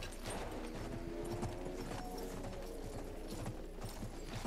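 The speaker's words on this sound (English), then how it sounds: "I think you'll find there's horses in this game, Chris, not dogs." Horse hooves clip-clopping in the video game Battlefield 1, a quick steady rhythm of soft, muffled hoofbeats with mechanical clatter mixed in, continuous and fairly quiet.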